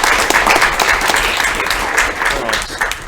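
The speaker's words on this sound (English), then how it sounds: "Can you guys give a round of applause?" An audience gives a steady round of applause after a talk, dense clapping from many hands that stays fairly loud and even for about three seconds.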